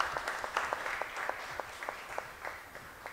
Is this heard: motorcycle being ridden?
no